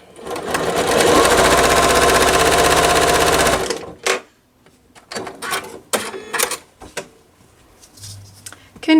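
A sewing machine stitches a quilt block along a drawn line, a loud close steady whir lasting a few seconds before stopping, followed by scattered handling clicks and a brief low voice.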